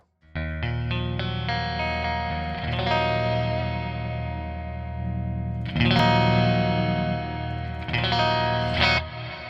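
Electric guitar through a Toneforge Jeff Loomis amp plugin with the clarity control turned up, ringing distorted chords and picked notes that swell into louder strums, close and alone.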